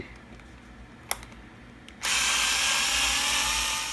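A power screwdriver runs steadily on a turnbuckle screw of a Traxxas Stampede 2WD RC truck, starting with a sharp click and then holding a loud, even whir for about two seconds.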